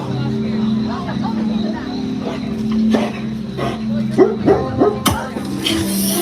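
A dog barks several times at a Halloween Horror Nights haunt, short yips and barks mixed into crowd chatter and background noise, with people talking throughout and a sharp bang near the end.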